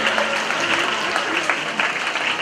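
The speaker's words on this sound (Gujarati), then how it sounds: "આપણે તાળીઓથી મહેમાનનું સ્વાગત કરીએ છીએ, એટલે વધાવીએ તાળીઓ સાથે અમને" Audience applause welcoming guests on stage at a Republic Day event held at a primary school, a dense, steady patter of many hands clapping throughout, swelling slightly at the end.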